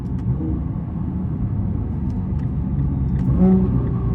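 A Nissan GT-R engine idles steadily with a low, even rumble, close and continuous, with a slight swell near the end.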